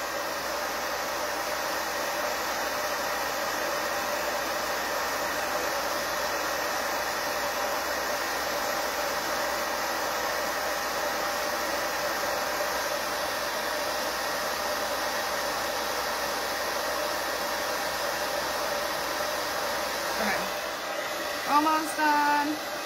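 A hair dryer blows steadily to dry paint on a pumpkin, a loud continuous whirring hiss held for a long stretch, with a few brief clatters of handling right at the end.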